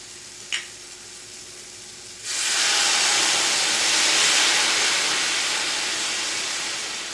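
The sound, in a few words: Marsala wine sizzling and reducing in a pan with browned mushrooms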